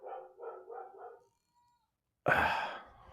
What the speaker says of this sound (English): My dog is freaking out.